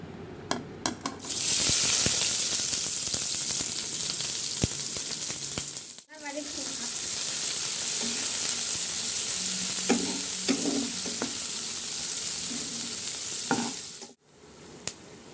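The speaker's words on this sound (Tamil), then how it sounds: "இப்போ நம்ம வந்து வெங்காயம் போட்டுக்கலாம்" Chopped onions sizzle in hot oil for homemade wheat pasta, with a steady broadband fry that breaks off briefly twice as the pan is stirred. Faint voices and scraping sounds show up in the middle stretch.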